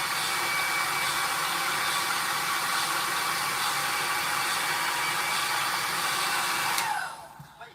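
A hair dryer blows steadily on hair during an at-home rebonding, a loud, continuous close-up whoosh lasting several seconds before abruptly switching off.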